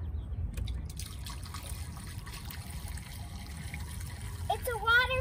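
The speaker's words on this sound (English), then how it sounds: "We've got a waterfall." Water pours from a pipe onto a piece of wood in a backyard, a steady trickling splash running throughout, with a voice briefly near the end.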